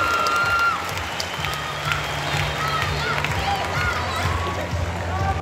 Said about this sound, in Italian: si prende gli applausi di tutta l'arena di Bercy